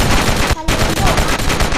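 Rapid machine gun fire in the video game Ravenfield, a dense, loud, continuous stream of shots with one brief gap partway through.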